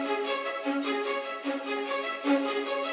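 Sustained orchestral strings playing a layered harmonic chord, swelling slightly in places, steady and full with no voices.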